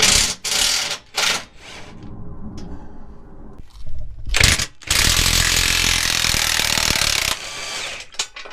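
Impact wrench or similar power tool spinning off a control arm nut on a Jeep Wrangler JL front end, loud rattling bursts in short stutters followed by a long sustained hammering run, close by.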